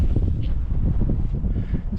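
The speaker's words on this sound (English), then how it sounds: "to try and stay out of the wind as much as possible, because yeah, it just keeps getting worse bit by bit" Strong wind gusting on an exposed hike in the Ruahine Ranges, New Zealand, a steady, loud low roar buffeting the microphone throughout with no break.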